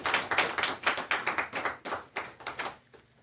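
A church congregation applauds Jesus with brisk, rhythmic claps, each hit crisp and distinct at a steady pulse, before the clapping drops away into near quiet at the very end.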